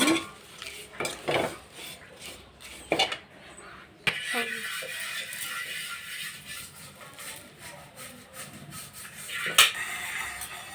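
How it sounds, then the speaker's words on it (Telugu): Curry leaves roasting in a pan under a spoon that scrapes and clatters against the metal in uneven strokes, then a steadier dry hiss of roasting with a few more knocks. "మంచి కరివేపాకుని ఇలాగా మొత్తం దోరగా వేయించుకోవాలన్నమాట."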